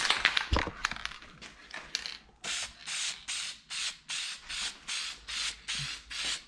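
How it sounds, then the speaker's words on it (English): Duplicolor trim and bumper paint hisses from an aerosol can onto the side skirts of a Honda CRX. Short, close rhythmic spray bursts repeat about a dozen times in an even pattern, after a few clicks and rattles at the start. "And then followed by a Duplicolor trim and bumper paint."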